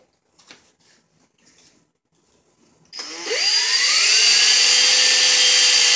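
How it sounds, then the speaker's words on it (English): Heavy wet sanding of a scratched CD with 3000 grit sandpaper, likely powered: quiet handling at first, then a loud, steady high-pitched whirring grind starts abruptly about halfway and continues without a break. "So I have a piece of 3000 grit sandpaper. We're going to do a real heavy wet sand."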